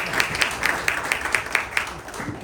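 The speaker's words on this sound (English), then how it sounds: "You can clap on that." An audience at a community event claps for several seconds in a steady patter of hands, with a few louder individual claps standing out over the crowd.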